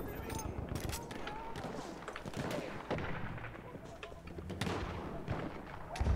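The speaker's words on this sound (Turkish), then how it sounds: "Kafama mortar geldi." Mortar shells and gunfire crash through a Battlefield 1 match, sharp blasts and cracks breaking out in a dense, steady barrage, with talk over the top.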